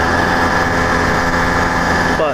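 CDH110 110cc motorized bike with an iron-sleeve engine running at low RPM during break-in, a steady close buzzing drone with a firm hum, loud and unbroken.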